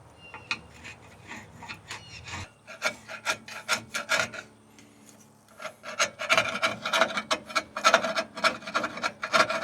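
A flat blade screwdriver scrapes out a channel in a convertible top frame lined with old cardboard, making dry, rasping strokes in irregular bursts that grow busier and louder toward the end.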